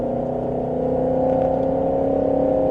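A Ford Mustang GT500 of 760 hp accelerating on the Nogaro race circuit, heard as a steady, close engine drone with strong tonal harmonics that holds loud and even for a few seconds.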